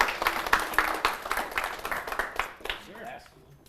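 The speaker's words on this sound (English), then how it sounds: "Give Trevor a big round of applause." Audience at a live broadcast event giving a round of applause, moderate clapping from a small crowd that fades out over a few seconds.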